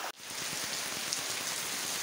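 Dense, steady downpour of heavy rain in north-east Brazil drumming on surfaces after a brief dip at the start, constant and close, with no talking.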